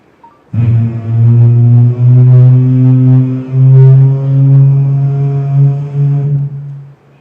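Voice imitation of an old airplane taking off, performed in a Kerala school mimicry competition: a loud, deep, buzzing drone holds for about six seconds with slight swells before cutting off.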